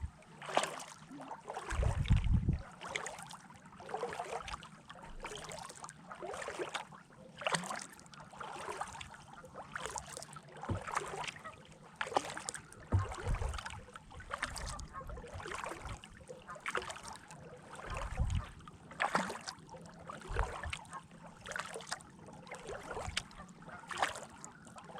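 Rhythmic paddle strokes dip and swish through calm water, repeating evenly with soft drips and splashes between pulls.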